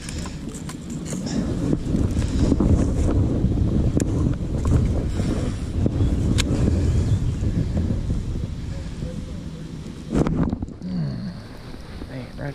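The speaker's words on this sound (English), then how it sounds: "The wind could calm down 50 miles an hour or so" Strong wind rumbles across the microphone on El Dorado Lake during a fishing trip, a loud continuous buffeting that eases slightly near the end.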